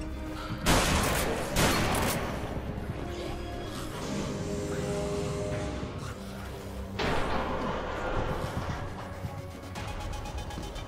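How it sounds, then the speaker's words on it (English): Heavy shotgun blasts in the Deadlight video game, two booming shots close together early and another later, over a loud continuous rumble of game noise. "So pissed I'm gonna use the shotgun"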